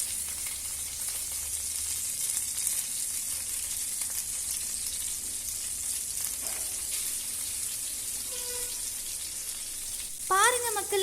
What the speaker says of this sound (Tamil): இப்போ நாம் ஒரு மீனாக எடுத்து எண்ணெயில் சேர்த்துக்கலாம்